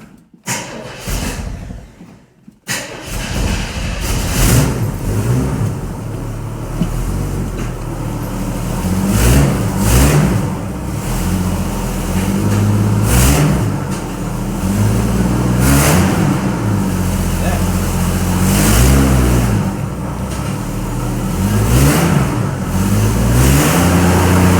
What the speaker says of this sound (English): I was so excited the car started so easily and idled directly.